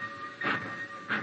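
A black train pulls away in an old radio drama, a steady rumbling bed with two brief bursts of hissing steam a fraction of a second apart, with no voices over it.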